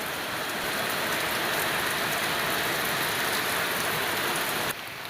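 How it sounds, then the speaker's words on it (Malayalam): Sudden rain pouring down outdoors, a dense steady hiss of drops on surfaces that stays loud and even throughout before easing slightly at the very end. "ആ നിമിഷം മഴ അതാ പെട്ടെന്ന് അങ്ങോട്ട് വന്നു കേട്ടോ"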